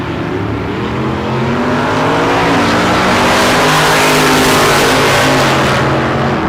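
Bracket race cars launch hard off a drag strip starting line, a loud sustained engine roar rising in pitch as the cars accelerate away together, continuous and close without any break.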